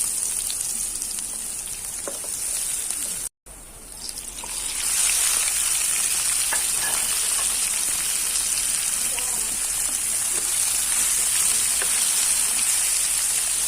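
Garlic and onion fry in hot oil for a fish dish, giving a dense, rain-like hiss that cuts out briefly, then swells into a loud, steady sizzle that continues unbroken.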